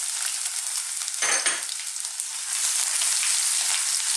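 Garlic dropped in with galangal and ginger sizzling in hot sesame seed oil, a steady bright frying hiss with a brief stirring flare partway through.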